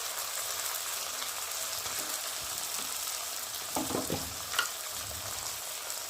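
Masala of chopped tomato, green chili and chili powder sizzles steadily in hot oil in a pan, a soft continuous frying hiss with occasional stirring scrapes near the end.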